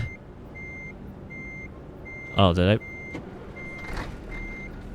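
Reversing alarm of a Scania T 4-Series truck in Euro Truck Simulator 2, steady evenly spaced beeps over a low engine hum, interrupted briefly by a short spoken remark.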